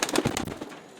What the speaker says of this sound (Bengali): এটা সাপচিলা কবুতর